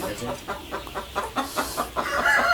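Hens cluck in short repeated bursts at a poultry farm's laying spot, moderately close, with a steady rhythm of soft calls rising slightly toward the end.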